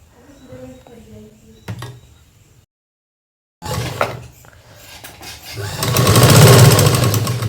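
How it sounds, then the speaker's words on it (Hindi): A sewing machine stitches kurti fabric in a run of rattling whirs that stops briefly into silence, then starts again and builds to a louder, sustained stretch, with someone speaking over it. "सिर्फ सिंगल वाले पार्ट में हमें सिलाई मारनी है इस तरीके से"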